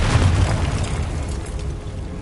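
A Confringo blasting spell explodes in Hogwarts Legacy, a heavy, close boom at the start that rumbles and fades away over a couple of seconds.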